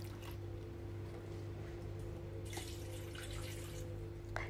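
Eggplant is swished and rinsed in water in a steady, close wash of splashing and trickling over a low mechanical hum, with brief sloshing bursts near the end; no talking.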